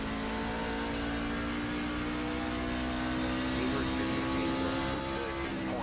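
Race truck engines from a Chevrolet Silverado in iRacing roar continuously at Phoenix International Raceway, a loud sustained drone with rising revs and other trucks blending in close by, and no talking.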